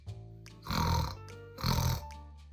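Two loud, rumbling snores spaced about a second apart, each a drawn-out throaty rasp with quieter breathing between.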